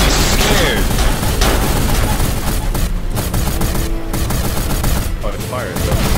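Weapon fire in the Spider Tanks video game, including mortars, sounds as a dense, loud barrage of overlapping blasts and rapid shots that fills the whole stretch with almost no pause.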